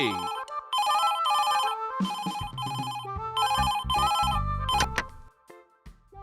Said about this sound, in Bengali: এই সময় আবার কে ফোন করছে?